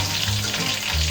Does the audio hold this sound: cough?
no